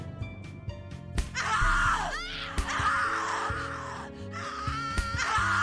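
A voice screams and wails in the video game CatLady, long anguished cries rising and falling over a few seconds, loud and close, with no talk over them.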